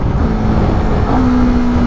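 A Honda CBR250RR motorcycle engine drones loud and close while the rider drops a gear; the steady note dips briefly and then settles into a higher sustained pitch.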